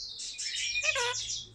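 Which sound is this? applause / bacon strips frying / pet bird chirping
pet bird chirping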